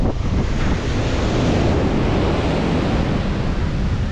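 Sea waves at Valiyaparamba beach, an unsafe stretch of shore, make a loud continuous roar of surf close by, mixed with heavy wind buffeting the microphone.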